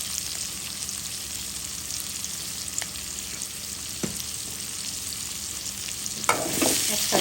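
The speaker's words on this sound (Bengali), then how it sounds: "দিয়ে দিলাম পেঁয়াজ, আলু আর পেঁয়াজ একসাথে ভেজে নিব" Onions and potatoes frying together in oil left over from frying fish: a loud, steady crackling sizzle throughout, with a couple of utensil taps and a burst of stirring near the end.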